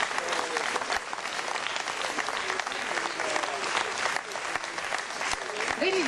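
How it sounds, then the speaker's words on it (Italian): Audience applause fills a hall after a young guitarist places third in a jazz guitar contest at an Italian jazz festival, dense continuous clapping throughout with a host's voice over it. "Prenditi il tuo applauso"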